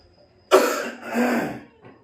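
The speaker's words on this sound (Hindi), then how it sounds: "बहुत खांसी आ रहा है" A single person coughs close up, a sharp hack followed by a second rougher cough and a faint trailing throat sound.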